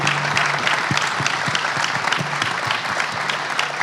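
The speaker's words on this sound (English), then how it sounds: "Give yourselves a round of applause," Audience applauds at a Phoenix Suns and NBA press conference about the 2027 NBA All-Star Game, steady dense clapping throughout with no pauses.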